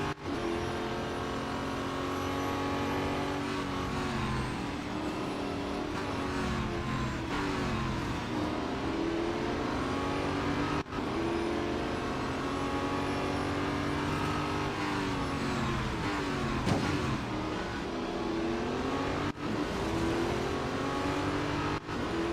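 A racing car engine in the Real Racing 3 mobile game revs continuously, the pitch repeatedly climbing and dropping through gear changes, loud and close throughout with no break.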